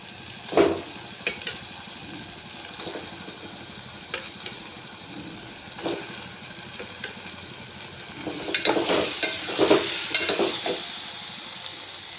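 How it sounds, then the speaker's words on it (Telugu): Eggs simmering in a tomato gravy with separating oil in a pan, a soft steady bubbling sizzle with occasional utensil taps, busier toward the end, no speech. "ఇప్పుడు ఇందులో ఎగ్స్ వేసేసుకున్నాము"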